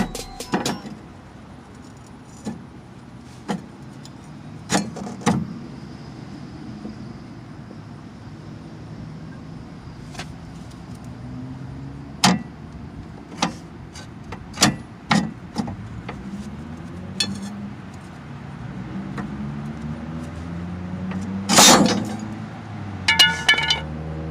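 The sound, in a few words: large pry bar removing coil spring from Jeep Grand Cherokee axle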